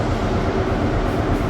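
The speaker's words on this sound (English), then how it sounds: "So here we have our train." A train waiting at a station platform before a journey to Oban, giving a steady, broad low rumble of idling engine and ventilation that holds evenly throughout with no distinct clanks or voices.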